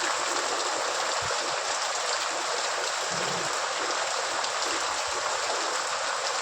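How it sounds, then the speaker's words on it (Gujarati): Rain falls in a steady, even hiss close by, with a few faint low thumps and no voices. "અંકિતાબેન કેવો વરસાદ રહ્યો"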